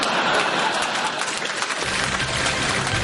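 A television studio audience applauds steadily after a comedic song bit, a thick, continuous patter of many hands at moderate loudness that holds evenly for a few seconds, with a low background rumble joining partway through.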